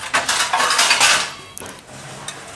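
Cooked chocolate laddu mixture is scooped from a pan into another dish, a burst of close metallic scraping and clinks of utensil against steel for about a second and a half, then a few lighter taps.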